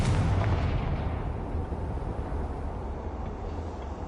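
The Confringo fire spell from the video game Hogwarts Legacy lands as a loud, dense blast, its roaring rumble decaying slowly over four seconds.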